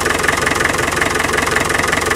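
A 2.5 TD diesel engine, top previously removed, idles steadily with a loud, even rhythmic clatter heard up close, with no talk over it.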